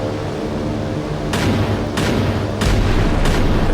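Heavy booms from an AC-130 gunship's 105mm gun in the naval combat game Sea Power, four loud deep shots spaced roughly every second, each with a sharp crack and rolling tail over a low rumble.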